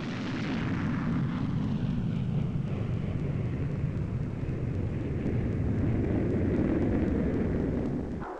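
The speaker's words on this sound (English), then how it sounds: "The takeoff, mere routine, afterburner turned on, time interval to the following patrol, 10 seconds." Four-ship flight of jet fighters taking off steeply with afterburners lit, giving a loud, continuous deep roar that swells slightly and holds steady throughout, with no talk.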